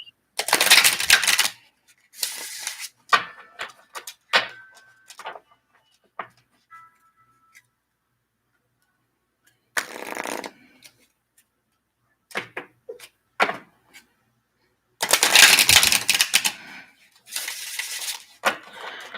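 Tarot cards are shuffled in several bursts of crisp riffling and flicking, separated by near-silent pauses, close and fairly loud.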